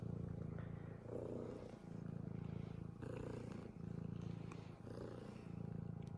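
A pet cat purrs close by in a loud, steady, rumbling rhythm, each inhale and exhale cycle lasting about a second and a half.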